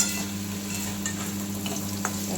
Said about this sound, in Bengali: চলো এদিকে আলু ভাজাটা হয়ে যাক